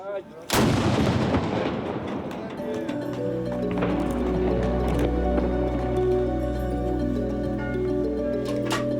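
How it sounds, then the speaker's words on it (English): A ceremonial artillery cannon fires the midday salute in Saint Petersburg: one sharp, very loud blast followed by a long rolling echo and a sustained low rumble, with no other sound over it. "A regular midday salute for a proud city."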